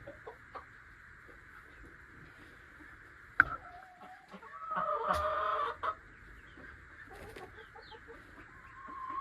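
Chickens, several of them molting, cluck and squawk close by, with short sharp calls and one louder burst of agitated clucking over a faint background hum.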